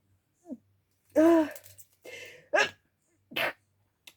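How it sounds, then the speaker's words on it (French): A woman sneezes indoors while working on an art collage, a short gasping intake followed by sharp bursts and a sniffle, close and fairly loud against a quiet room. "Je vais éternuer."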